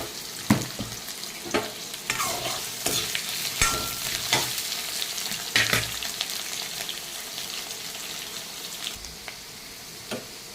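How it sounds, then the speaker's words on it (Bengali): Potatoes frying in oil in a home kitchen, a steady near sizzle broken by repeated sharp clacks and scrapes of a spatula stirring, louder at first and settling toward the end, with no voices. "আলুটা আমার ভাজা হয়ে গেছে, আমি এখন নামিয়ে নেব।"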